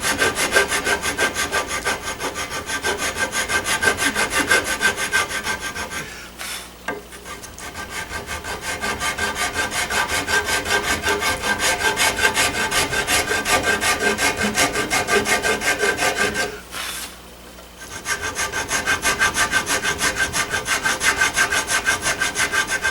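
A rasp smooths the wood of a gunstock in long, rapid rhythmic strokes, loud and close, with two brief pauses where the tool shifts position.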